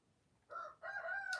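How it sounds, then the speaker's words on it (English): A rooster crows twice in fairly faint, close succession, a short first call followed by a longer drawn-out crow, with no other sound around it. "While my rooster periodically crows, he is doing that."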